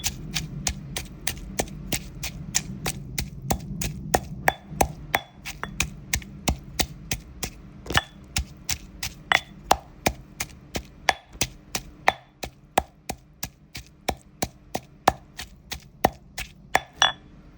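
Bird's eye chilies are pounded for a suki dipping sauce with a pestle in a mortar, giving regular sharp knocks about two to three per second, close and loud, continuing steadily without talk.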